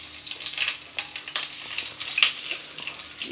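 Bay leaf and whole spices crackle and sizzle in hot oil while being tempered for a spicy elephant foot yam curry, a close, bright spitting fry with quick pops throughout.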